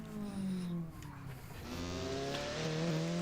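A loud car engine built as a near-copy of the Group B Opel Manta engine revs and pulls through the gears, its rasping tone rising and dropping as it accelerates nearby.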